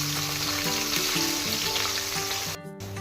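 Onions dropped into hot oil in a wok, already holding dried chilli, bay leaf, whole garam masala, cloves and peppercorns, give a loud, close, steady sizzle and frying crackle that falls off briefly near the end.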